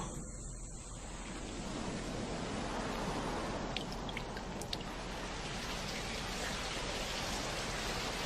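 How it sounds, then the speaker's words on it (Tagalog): Sun-shower rain in an animated scene, a steady dense hiss of falling drops on surfaces that holds evenly throughout with a few brighter spatters, fairly soft and with no one speaking. "Umuulan kahit may araw."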